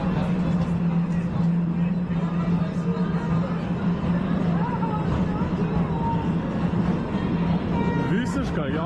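A small ride train rolls along with a steady low rumble and rattling, faint chatter around it, and a squeal near the end.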